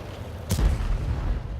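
A World of Tanks cannon, a 105, fires once with a sharp crack and a deep booming rumble that decays over the next second.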